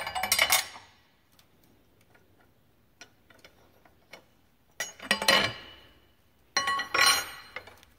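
A wrench tightens down a homemade cylinder liner puller on an engine, giving bursts of metallic ratcheting and clinking with small ticks between them, close and alone.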